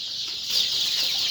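Native desi chickens clucking close by, a short bright burst of hen calls over a steady chirping background, with no voices.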